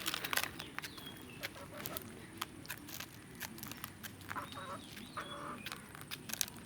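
A pet rooster and a few hens cluck nearby in a home yard, with scattered short clucks and calls at an irregular pace, fairly faint over quiet background with no talking.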